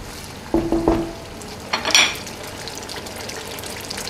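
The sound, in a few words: chili paste frying in a pan for chili crab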